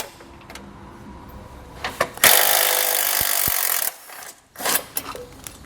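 Bolts come off with 11mm and 16mm sockets during a base plate install on a 2016 Buick Envision. A roughly two-second buzzing power-tool burst is framed by metallic clicks and clanks, close and loud.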